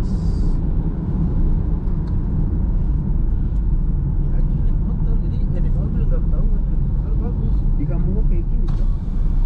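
A car's engine climbing a winding uphill mountain road on the Puncak Bogor route in second gear, near 3000 rpm, makes a steady, loud, low droning rumble that runs unbroken throughout.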